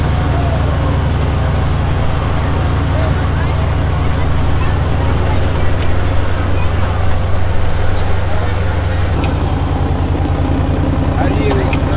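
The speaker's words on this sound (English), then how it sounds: "Okay, it's idling nice." An engine starts and settles into a steady low idle in an outdoor trail setting, running continuously and fairly loud with a shift in tone near the end.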